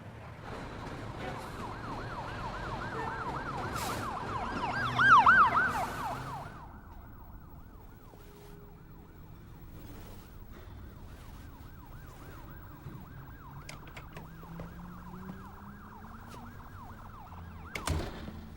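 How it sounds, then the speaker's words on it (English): A wailing siren sweeps up and down over a low city rumble, swelling loudest briefly before fading into distant traffic noise with occasional sharp bursts. "Sirens. Car horns."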